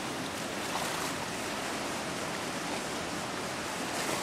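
Floodwater of the Thornapple River surges over Ada Dam, a steady, loud, broadband roar of rushing water that holds constant throughout with no voices.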